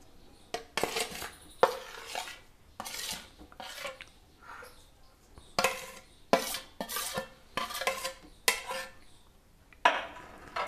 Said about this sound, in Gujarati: હવે આવી રીતે સરસ બધું મિક્સ કરી લેવાનું છે આપણે।